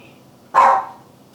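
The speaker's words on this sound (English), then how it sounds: "Dog is waiting for its dinner, so it knows we're cooking." A dog waiting for its dinner in a kitchen lets out one short, loud bark over a low background hum.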